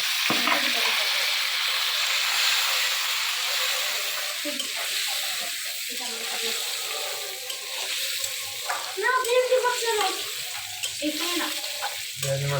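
Potatoes fry in a pan for homemade biryani with a steady, close sizzle and occasional stirring, while a voice speaks briefly in the background.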